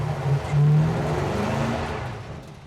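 LS-swapped Ford F1 truck accelerating hard on a gravel yard corner, a steady loud engine roar with a brief surge in revs, tires working on loose gravel.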